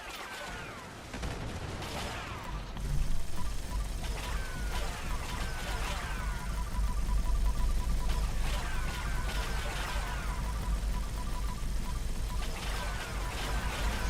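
Gunfire and explosions in Fallout 76 during a raid, a dense, continuous barrage of sharp repeated shots and bursts with mechanical clatter, loud and close throughout without talk.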